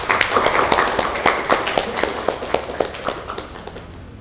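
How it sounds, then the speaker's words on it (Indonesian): A classroom of students claps for their classmates on cleaning duty, a dense burst of hand claps that tapers off over a few seconds. "Kita beri aplaus dulu untuk yang piket."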